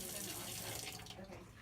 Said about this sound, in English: First step is going to be to take the pot and collect water.